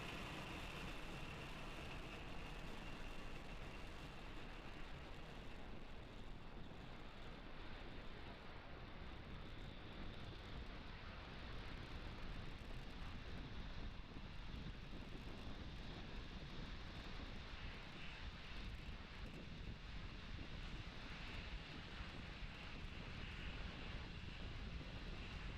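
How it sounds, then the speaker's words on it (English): SpaceX Falcon 9 rocket carrying the Transporter-5 mission lifting off and climbing, a steady broad roar heard from a distance that holds level throughout with no break and no talking. "Ignition and liftoff. The 1D chamber pressure is normal. Vehicles pitching downrange."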